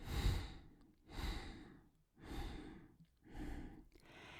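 During a breathing exercise, one exhale is split into four equal, soft breathy puffs, sigh-like and close to the microphone, separated by short gaps, with no speech.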